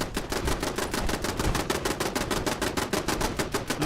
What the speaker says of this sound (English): there's one turret somewhere that's just banging away